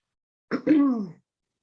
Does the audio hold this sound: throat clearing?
yes